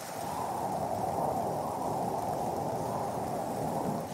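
Steady rain falls during a hike in the Lot valley in France, a continuous dense hiss with low rumble throughout, loud and close, with no voices.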